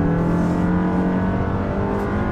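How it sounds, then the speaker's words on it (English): A 2020 Toyota Camry XSE AWD engine revs up steadily under sport-mode acceleration, a continuous droning hum that stays loud and even throughout. "try out an acceleration here in the Camry right off the bat"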